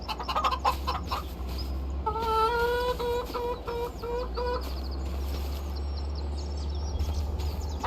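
Chickens in the Farming Simulator 25 video game on PS5 cluck and call in a series of short, bright, repeated bursts, fairly close, over a steady low farmyard hum.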